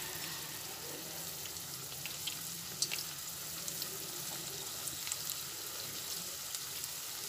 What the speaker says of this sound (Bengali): কোপ্তাগুলো রেডি করার জন্য কড়াইতে তেল দিয়ে দিয়েছি। কোপ্তাগুলো এক এক করে ভেজে নিচ্ছি।